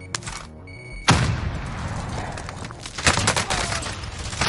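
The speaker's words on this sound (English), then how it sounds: "Grenade out!" A video game firefight with a grenade blast as a heavy boom about a second in, followed by a dense, loud fusillade of gunfire and another burst of shots near the end, with faint voices beneath.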